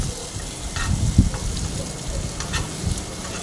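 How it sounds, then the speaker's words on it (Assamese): Onions and tomatoes with panch phoron fry in oil in a pan, giving a steady close sizzle with occasional stirring scrapes and brief louder crackles, without speech. "এতিয়া মই এইখিনি ভাজি ল'ম। পাঁচফোৰণ দুটামান দিলোঁ, পিঁয়াজ দিলোঁ আৰু লগতে বিলাহীখিনিও দি দিলোঁ।"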